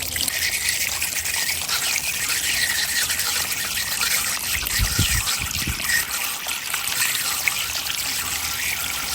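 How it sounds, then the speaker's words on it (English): Water flows and trickles through PVC yard drainage fittings in a steady, continuous rush, fairly loud and close, with a brief low thump midway. "So as you can see, that water travels a lot more smoothly through here compared to that rotating fitting."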